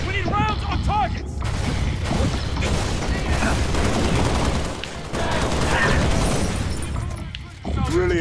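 Halo: Reach gameplay gunfire, rapid bursts of automatic shots and clattering weapon noise in a busy firefight, loud and close, mixed with voices talking at the start and end.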